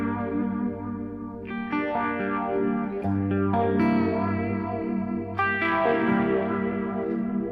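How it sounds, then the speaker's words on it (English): Electric guitar run through a flanger and a Phase 90 pedal, with sustained chords that swirl and sweep in a steady jet-like whoosh, loud and close with no one talking. "I have a flanger in here. I got a flanger on here, right? I got a phase 90 on here"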